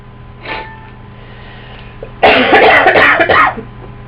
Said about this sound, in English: Oh, I do apologize for this cough.